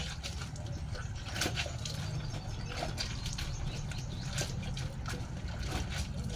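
Clothes washed by hand in water, with continuous splashing, scrubbing and dribbling close up, plus occasional sharper slaps of wet fabric.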